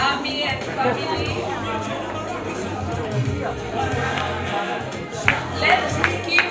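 An audience at a children's club graduation ceremony applauds, with scattered claps rising near the end over a constant murmur of crowd chatter and talking.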